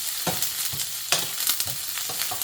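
Onion sautéing in hot oil with garlic, a constant close sizzle broken by soft rhythmic stirring scrapes.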